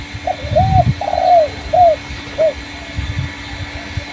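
A trained dove in a training session gives a short run of soft, rising-and-falling coos, about four calls close by, over faint background noise.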